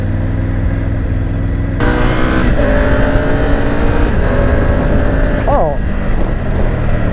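A 2020 Triumph Tiger 900 GT Pro motorcycle in A2-restricted 35 kW form hums steadily while being ridden, a continuous engine drone with wind roar and a brief rising whine near the end, while a rider talks over it.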